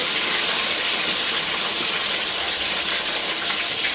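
A large fish head fries in hot oil, giving a loud, steady, dense sizzle and hiss that runs without a break.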